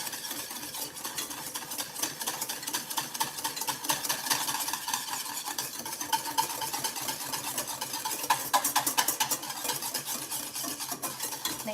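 A utensil stirs bloomed gelatin into warm passionfruit curd in a pan, a continuous close scraping swish with a dense wet texture and occasional light clinks, running steadily throughout.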